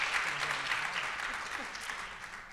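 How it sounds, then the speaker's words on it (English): A crowd at a town hall meeting breaks into steady, fairly faint applause that fills the short stretch with dense, even clapping. "Let's give them one more round of applause to make sure they feel nice and welcome on the stage."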